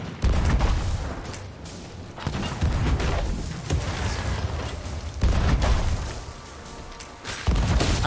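Ship cannons in Sea of Thieves fire in a string of heavy booms, several loud blasts spaced a second or two apart, each trailing into a rumble amid game noise.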